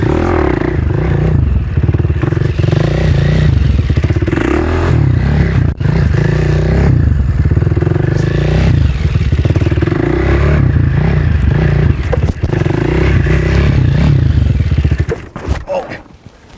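A motorcycle engine drones loudly and steadily at low revs through a slow wheelie with one hand dragging along the ground, with clattering and scraping mixed in, then cuts off sharply near the end.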